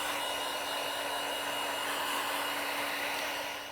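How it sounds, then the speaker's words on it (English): A heat gun blows a steady, loud airflow roar while warming the rear emblem on a Tesla Model 3 Highland, constant and close with no talking. "the main thing for this is moving your heat gun around"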